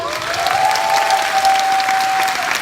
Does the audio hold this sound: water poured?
no